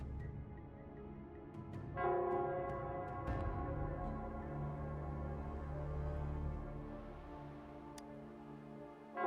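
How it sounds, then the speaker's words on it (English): A town bell rings in Nell Square in a video game, with struck tones around two and three seconds swelling into sustained, overlapping ringing partials that hang at steady loudness under a low background hum. "it's the Nell Squares bell."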